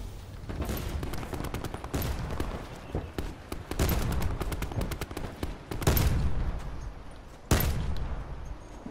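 Repeated bursts of video-game gunfire from Black Ops 4 Blackout pop and crack. Rapid automatic volleys alternate with louder single blasts, some near and sharp, others more distant.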